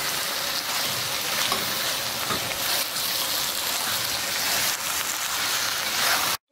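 Squid frying with masala in a pan gives a steady, dense sizzle that stays loud and even throughout, with no voices.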